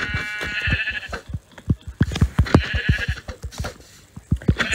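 Repeated sheep bleats from a video game, close and clear, sound in quick irregular bursts with short pauses, some bleats overlapping.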